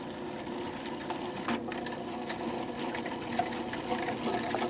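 A Cuisinart Elite 14-cup food processor runs steadily as it chops herbs with olive oil, giving a continuous whirring, watery churn with small bumps and no talk.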